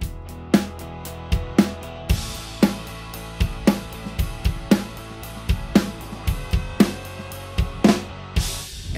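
Drum kit grooving steadily through a verse straight into a chorus with no fill, kick, snare and cymbal crashes in a repeating even pattern, close and moderately loud with no talking.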